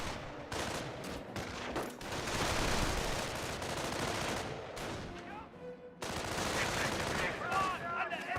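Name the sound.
gunfire from grenadiers in the video game Company of Heroes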